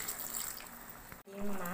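Water poured into a pan of cauliflower and fish cooking on the stove, a steady splashing flow that cuts off sharply and then turns into a brighter, filling gurgle.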